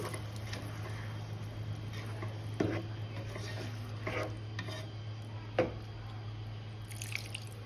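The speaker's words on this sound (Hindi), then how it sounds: "पानी डालेंगे" Water goes into a white chicken makhani karahi in a kitchen, giving scattered drips and small splashes over a steady low hum, with no talking.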